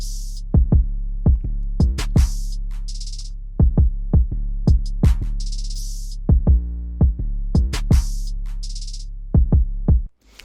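Trap drum loop with the hi-hat and clap removed, leaving punchy kicks, deep sustained bass and occasional bright percussive hits in a bouncy rhythm, loud and alone with no talking.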